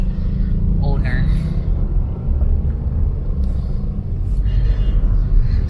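Busy city street traffic in Mandaue City, Philippines, a steady low rumble of cars and motorcycles passing close by, continuous throughout with faint brief hiss of brakes above it.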